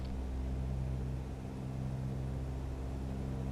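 An aircraft engine in Microsoft Flight Simulator hums steadily and loudly during takeoff, a low, even drone with no speech over it.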